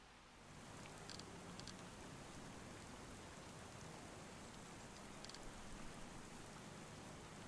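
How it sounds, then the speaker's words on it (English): Heavy rain pours steadily in a farming video game, a faint, even wash of noise with a few soft ticks and no talk. "the rain just cranked up and now it sounds like it's pouring out."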